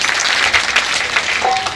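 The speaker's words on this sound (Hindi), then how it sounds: "ताली बजाइए।" Applause from an audience at a Hindu devotional Manas mandali program in a Chhattisgarh village, a steady dense wash of many clapping hands held at even loudness throughout.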